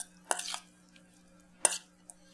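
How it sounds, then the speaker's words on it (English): Tomatoes are stirred in a bowl for bruschetta, giving two short, faint scraping clinks of a utensil against the dish with quiet pauses between them. "We mix our tomatoes"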